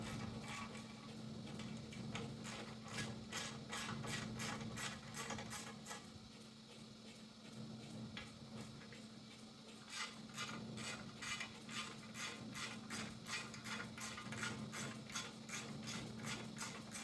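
A 3/16 Allen ratchet removes the wing bolts from a SkySki Pro SS sit-down hydrofoil. Its pawl clicks in quick, steady runs, with a short pause in the middle, close and fairly quiet.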